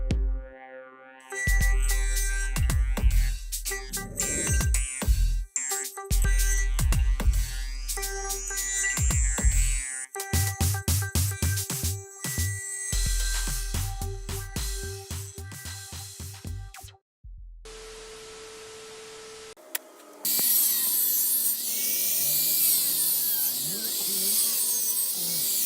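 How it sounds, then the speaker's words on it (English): Grinder cutting apart extruded alloy scrap: a loud, close, grinding buzz that starts and stops repeatedly with rattling bursts, ending in a brief steady tone and noisy clatter. "if you got a grinder, take these things apart"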